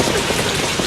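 Heavy rain at night as a film soundtrack effect, a dense, loud, continuous hiss of downpour hitting surfaces with no break across the moment.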